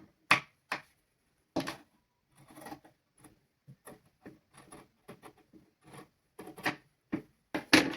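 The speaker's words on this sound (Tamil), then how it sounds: "இனி இது வந்து பின்பகுதியை நான் முதல் கட் பண்ணுறேன்" Fabric being cut with scissors for the back panel of a pleated shirt, heard as a string of short crisp snips and rubbing sounds close by, with a few louder bursts at the start and end and quieter snips between, no talking.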